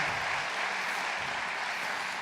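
Steady, dense applause from a sizable forum audience, continuous and even throughout with no voices standing out.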